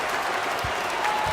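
Basketball arena crowd in the NBA 2K25 video game, Lakers vs Clippers, a steady wash of cheering and applause that stays fairly even throughout.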